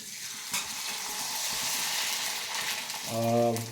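Homemade kurdaya chips frying in hot oil, a close steady sizzle and crackle, with a voice briefly speaking over it near the end.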